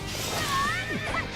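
A horse whinnies in Fire Emblem Warriors on the Switch, a short rising and falling neigh over game noise and a faint voice.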